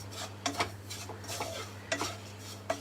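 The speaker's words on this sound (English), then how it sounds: "Now stir again." Utensil stirring food in a cooking pot, faint scraping and clinking strokes in an irregular rhythm over a low steady hum, no voices.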